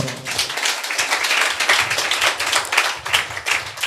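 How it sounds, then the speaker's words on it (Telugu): A church congregation claps continuously and rhythmically for several seconds in a loud, close, even pattern with little talk around it. "యేసేపు చప్పట్లు కొట్టు"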